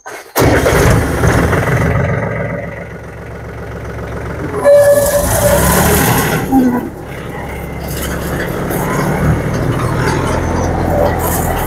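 A small tractor-driven chaff cutter for crop fodder starts up with a sudden loud mechanical roar. The roar surges again midway and settles into a steady whirring drone, with voices talking over it.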